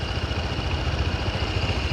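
A Honda PCX 125 scooter idles nearby, giving a quiet, steady low mechanical hum over faint background noise.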